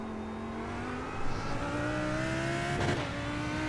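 Lamborghini GT3 race car engine running at Monza in the iRacing sim, a steady sustained drone with rising pitch as it accelerates, a brief shift-like blip near the end, loud and continuous with no talk.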